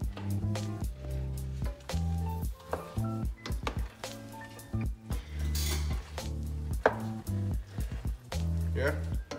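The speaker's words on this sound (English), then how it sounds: "Now we're just going to mix everything in." Jollof rice ingredients are stirred in a pot with a metal spoon, giving repeated close scraping and clanking strokes in an irregular rhythm, with a faint sizzle underneath.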